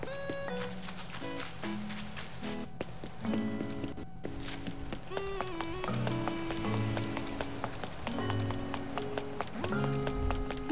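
Steady patter of in-game rain in Animal Crossing, soft and even, running beneath a bright plucked melody of synthesized game music, with no voices.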